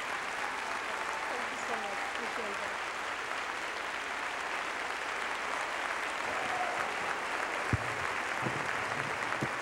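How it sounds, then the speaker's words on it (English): Steady applause from a church congregation fills the room throughout, a broad continuous wash of clapping with a few faint voices and calls mixed underneath. "Let's give a clap for Jesus."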